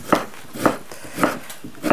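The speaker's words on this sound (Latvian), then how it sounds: "Tad sasmalcinu kāli." A swede being chopped on a board for soup with a kitchen knife, four evenly spaced crisp thuds, close and clear, with no talk.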